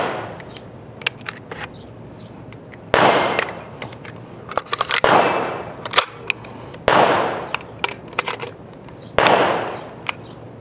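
An M3 Grease Gun submachine gun fires in sharp bursts and single shots, with loud echoing reports spread across the clip and short gaps between strings of fire.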